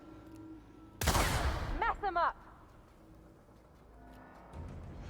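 Suppressed bolter pistol in The Outer Worlds fires a loud burst of shots, followed by sharp ricochet-like chirps and a trailing rattle, standing out over a quiet game background.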